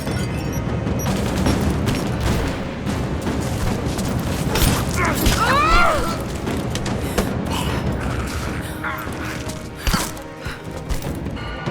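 Gunfire and a grenade blast in the video game Rise of the Tomb Raider: dense bursts of shots and thumping booms, with speech-like game voices mixed into the busy action.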